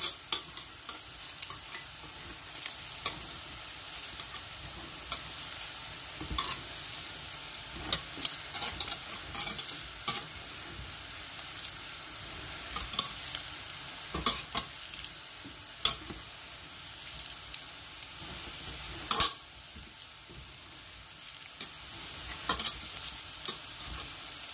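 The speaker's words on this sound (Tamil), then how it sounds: "இப்போ நாங்கள் தேங்காய்ப்பையும் இந்த வாழைக்காய் தோல் அவிய விட்டு வச்சுருக்கிறதையும் நல்லா இந்த மாதிரி மிக்ஸ் பண்ணி எடுங்க" Grated coconut and boiled plantain peel for Jaffna-style sambal are mixed by hand, a steady close rustling hiss dotted with repeated small clicks and taps throughout, with no voices.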